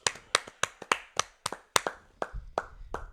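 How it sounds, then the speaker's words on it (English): A handful of people clap their hands at close range in an uneven burst of about a dozen sharp claps, with a low thump near the end. "let's go ahead and clap it up for Wormy D"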